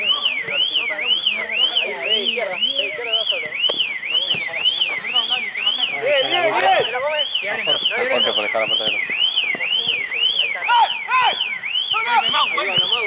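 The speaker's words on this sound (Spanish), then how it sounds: "Igual está esa alarma." A car alarm near a five-a-side football match wails in a steady, repeating up-and-down whoop, loud and continuous throughout, while players shout and talk over it.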